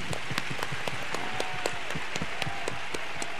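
An audience at a talk event claps steadily, a dense even patter of many hands with sharp individual claps standing out, moderately loud and sustained throughout.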